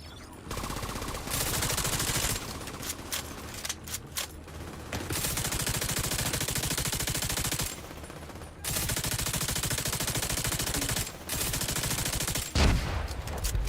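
A light machine gun in a first-person shooter fires loud, sustained rattling bursts that are broken by several short pauses, with a sharp clatter near the end.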